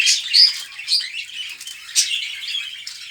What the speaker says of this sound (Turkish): Bunlar kuşlarımız.